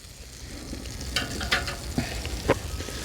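Butter melting on a 28-inch Blackstone flat-top griddle over medium-low heat, a soft steady sizzle with a few brief scraping clicks, faint and close.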